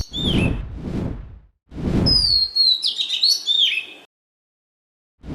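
An oriental magpie robin sings a sweet, clear run of whistled, warbling phrases, close and loud, after a few breathy rushing noise bursts and before a pause.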